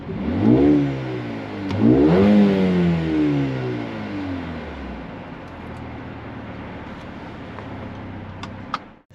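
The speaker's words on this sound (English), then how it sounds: "So let's give it a few revs." A Mercedes-AMG A35 (W177) engine revs hard twice in quick succession, then drops back to a steady, rumbling idle.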